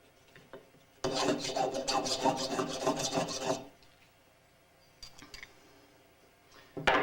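Close, rapid strokes of a file rasp across the back side of a metal pottery trimming tool to remove burrs, one rhythmic scraping burst of about two and a half seconds, then a few faint scrapes, with no speech.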